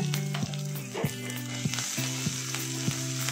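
Ginger paste sizzling in a pan with onion and garlic for Bengali chicken kosha, a steady close frying hiss broken by regular clinks and scrapes of a spoon stirring, with a low hum behind.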